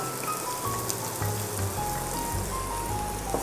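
Onions hit hot oil in a home kitchen while a chicken chapati roll is being made, giving a steady, close, rain-like sizzling hiss over a low hum, with no talking.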